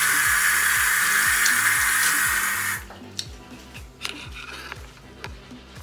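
Water runs steadily from a tap into a sink while teeth whitening is rinsed off, a loud hiss that stops abruptly, leaving faint splashes and drips.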